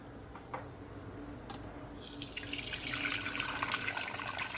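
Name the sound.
draining cooking water from boiled lentils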